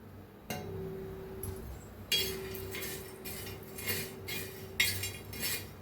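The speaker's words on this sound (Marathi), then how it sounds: "छान असं हलवून ना भाजून घेऊया आपण" Whole spices for misal pav being stirred and dry-roasted on a hot tawa, with scattered scraping and clinking strokes of the spoon against the metal over a low background hum.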